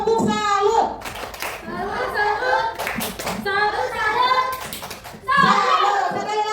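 A class of children claps together in rhythm while chanting in unison, the claps mixed under their loud group voices in short repeated bursts.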